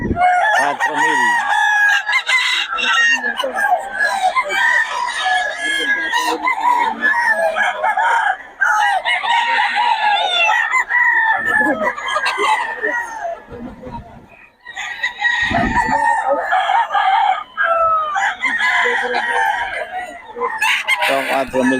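Pumpkin Sweater gamefowl roosters crow repeatedly at a poultry market in Bocaue, loud overlapping calls with clucking between them and faint background chatter.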